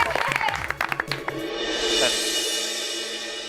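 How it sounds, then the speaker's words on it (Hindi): Children in a school audience break into applause. It follows a short burst of voices and sharp hits, then swells into a broad, sustained clapping wash that carries to the end. "तालियां बजती रहनी चाहिए"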